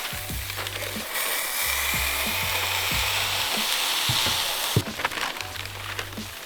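A burger patty sizzles loudly in a hot pan, a steady close frying hiss with low thuds and scrapes as the bottom of a saucepan presses it flat.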